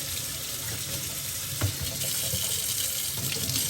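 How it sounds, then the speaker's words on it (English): Warm water runs steadily from a tap, splashing over a gloved hand in a sink, with a brief louder splash partway through. "I'm just going to rinse it off before taking it off."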